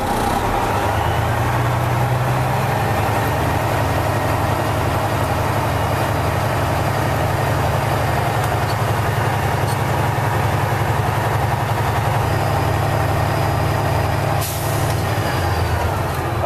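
A commercial truck's diesel engine idles steadily while its air brake system builds pressure, a loud constant rumble close by with a brief hiss of air near the end and no speech.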